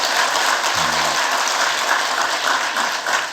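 A church congregation applauds in a dense, continuous wash of clapping that fills the room at steady loudness for several seconds, with no clear voices.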